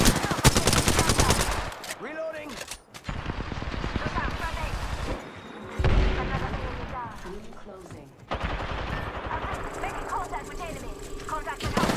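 Dense, rapid bursts of video game gunfire crackle almost continuously with machine-gun rattles and heavy shots, close and loud, while voices talk over the shooting.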